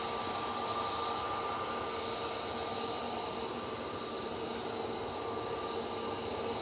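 A Ryanair jet departs Manchester Airport bound for Alicante, a faint, steady engine drone with a thin sustained whine, continuous throughout and heard from a distance with no voices.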